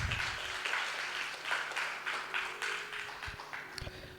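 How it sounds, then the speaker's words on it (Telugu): A church congregation claps their hands together in praise of God at a worship service, a steady rhythmic burst of many hands filling the room, loud and close, with no talk over it. "ఒక్కసారి చప్పట్లు కొడుతూ దేవుని మహిమపరుద్దాం"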